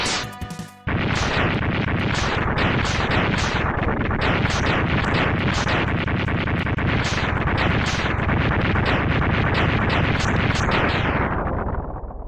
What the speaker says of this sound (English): That goddamn explosion.